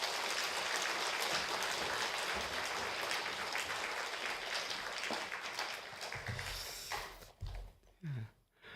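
A church congregation applauds to welcome a guest speaker at a Wednesday Bible study gathering, dense clapping that fades out toward the end, followed by footsteps and microphone handling noises.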